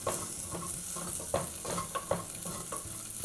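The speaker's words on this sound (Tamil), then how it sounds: "இதுவும் வந்து ஒரு 1 நிமிஷம் வதங்கட்டும்." Ginger sautéing in a pan with a soft sizzle, punctuated by a few clinks and scrapes of a stirring utensil.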